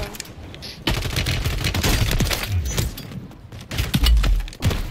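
Rapid close automatic fire from a Holger rifle in Rainbow Six Siege, dense repeated shots in quick bursts with heavy low thumps, loud and continuous.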